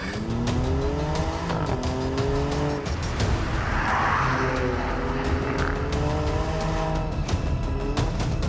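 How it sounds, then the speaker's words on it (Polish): A low-suspension race car labours up a hilly track, its engine loud and close with rising and falling revs and shifting tones, plus some tyre scrub, alone without talk. "przez to wzniesienie jest niezwykle trudno jechać wyścigówką, która ma niskie zawieszenie"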